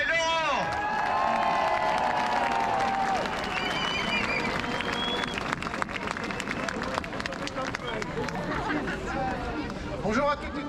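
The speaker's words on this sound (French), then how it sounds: "Applaudissez Laurent!" A crowd applauds and cheers at a protest at Trocadéro in Paris, dense sustained clapping with whoops and chatter, loud and continuous throughout.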